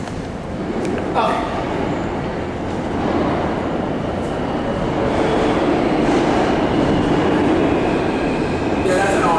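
A New York City subway R train, an R46, rumbles past with a steady, loud roar of wheels and cars, a brief high screech early on and a hiss near the end, while people talk faintly underneath.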